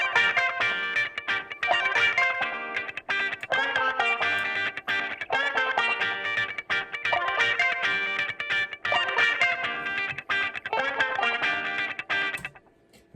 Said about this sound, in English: there's a little lead section for guitar